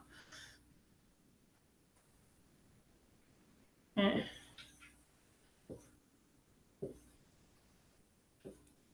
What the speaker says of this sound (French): je vais le dessiner un peu plus grand